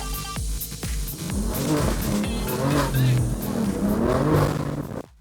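A Mine's Nissan GT-R and an Assist BMW M4 race on a mountain pass with loud, rising and falling engine revs, gear changes and tyre noise, continuous and close throughout.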